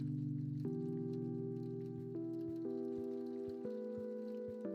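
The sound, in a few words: rain falling on a window in Kathy Rain video game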